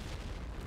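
Short, loud low-heavy explosion boom in a competitive Point Blank first-person shooter match, a single dense blast filling the moment with no talk.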